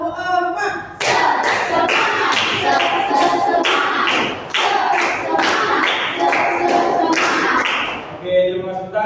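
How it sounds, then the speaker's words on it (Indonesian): Classroom group clapping in rhythm during an ice-breaking game, loud sharp claps in steady counted bursts that build across the clip, with a voice calling out between them. "Tepuk 1, tepuk 2, tepuk 3, tepuk"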